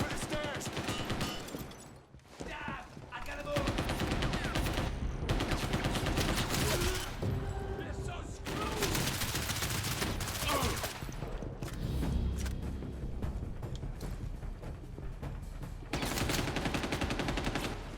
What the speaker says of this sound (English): Who is shooting at me?